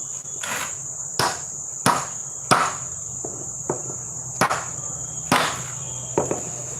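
A hammer strikes a metal part about ten times in an irregular rhythm, with sharp, close clanks over a steady high-pitched background whine.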